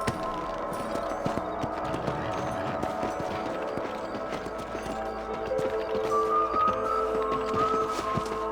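Horse hooves gallop in a steady, rapid clip-clop across open ground in the Red Dead Redemption game, close and continuous, with a faint musical tone rising toward the end.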